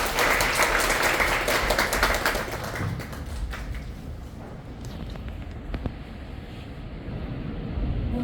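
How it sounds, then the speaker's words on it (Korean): Applause from a church congregation during a Sunday worship service, a dense, steady clatter of many hands that is loudest at first, then thins to softer scattered clapping. "우리 박수로 격려하겠습니다."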